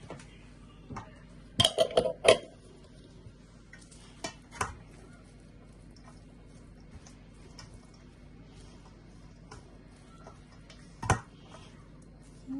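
A spoon stirs mustard and pepper sauce together, giving a quiet scrape with a few sharp clinks bunched near the start and two more isolated taps later over a low steady background.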